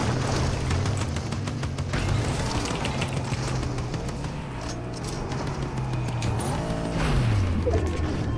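A car engine in Fortnite drones and revs steadily in the foreground, mixed with scattered game clatter and impacts throughout.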